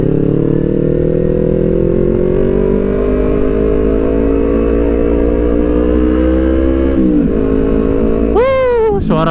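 A Kawasaki Ninja 250 FI two-cylinder motorcycle idles loud and close, its engine note rising steadily, then dipping before a sharp rev climbs high and falls away near the end.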